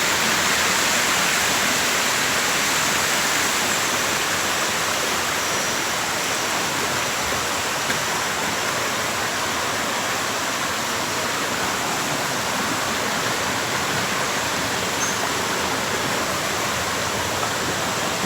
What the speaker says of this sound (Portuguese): Esse córrego aqui é o que passa no fundo da cidade.